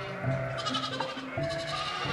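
Sheep bleat on a working farm as they are handled, several wavering bleats overlapping at moderate distance over a steady background.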